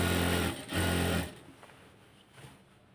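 A sewing machine stitches piping onto a kameez in two short close bursts, the motor whirring loudly for about a second, then falling quiet with faint room noise.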